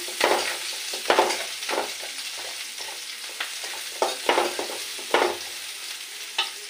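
Thick-cut onions fry and sizzle in a pan with chillies, stirred with repeated scraping strokes, close and steady throughout, no talk.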